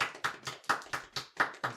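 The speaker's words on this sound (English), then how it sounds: "Absolutely golf clap for that." Soft, polite golf clap: a lone pair of hands giving about eight light, evenly spaced claps, close and quiet, with no talking.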